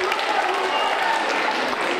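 Audience applause for a volunteer called on stage at a live show, a dense steady clatter of clapping filling the whole stretch at moderate loudness.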